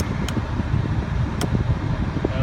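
Car engine idling with the heater set to max heat while the cooling system is filled and burped, a quiet steady low rumble with fan-like hiss and two brief sharp clicks, no voices.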